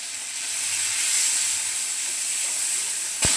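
Spice paste with chilli powder and coriander powder fries in a pan for a Bengali hilsa fish curry with potato and aubergine, giving a steady loud hiss and sizzle throughout, with a brief knock near the end.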